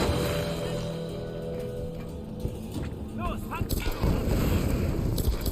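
Gunfire in the video game Tomb Raider comes as a few sharp shots and booms near the end, over a steady game ambience with someone talking under it.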